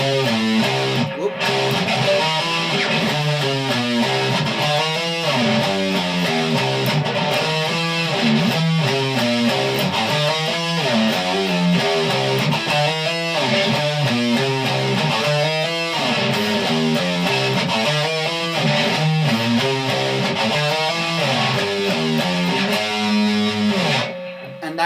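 Electric guitar plays the interlude section of a song, a dense, continuous run of sustained chords and melodic phrases at steady volume for about twenty-five seconds, with no talking.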